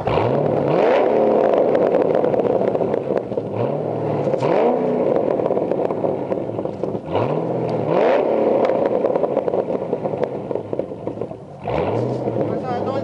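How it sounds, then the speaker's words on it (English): A Holden HSV VE Clubsport V8 (VXR8) with a bespoke 75 mm 316 exhaust system is blipped repeatedly. Loud, close revs rise and fall roughly every two seconds over a constant burbling idle. "Give it a couple more revs."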